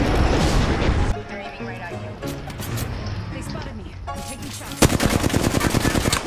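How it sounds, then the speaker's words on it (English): Machine-gun fire in the battle royale game Apex Legends, with bullets hitting the player, dense rapid bursts that open loud, ease under game noise and players talking, then return as a close, fast rattle. "Shit, I'm getting shot."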